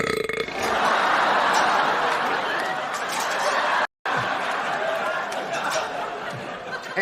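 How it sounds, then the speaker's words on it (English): A single loud, drawn-out burp rumbles on for several seconds in a sitcom scene, with a faint murmur of voices and light laughter beneath it. "Damn, I burped so hard I died in my game."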